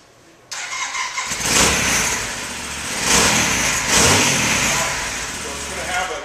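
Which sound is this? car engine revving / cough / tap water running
car engine revving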